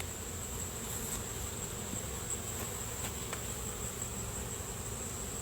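Honeybees buzz steadily and continuously around an open nuc hive during an inspection, a dense close hum with no talk over it.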